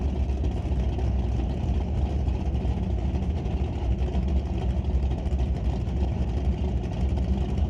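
A 1984 Camaro drag race car rumbles at the starting line of an NHRA drag racing event, a continuous deep engine drone holding steady throughout with no voices.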